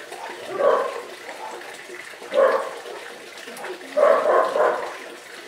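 Dogs trade barks with the neighbour's dogs in three short bursts, mid-distance and fairly loud, with faint background noise between them.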